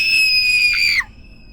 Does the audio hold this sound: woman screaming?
yes